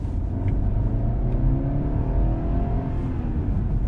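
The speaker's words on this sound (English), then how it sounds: "I'm just gonna turn here and just give it a little gas." A 2020 BMW 530i accelerating out of a turn under light throttle, heard from inside as a steady engine drone that rises in pitch over a few seconds, with road noise and no talking.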